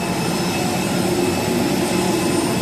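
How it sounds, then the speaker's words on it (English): EasyJet Airbus A320 jet engines run on the airport ramp during boarding, a loud, steady roar with a whining tone and no breaks. "board the jet, this EasyJet Airbus A320"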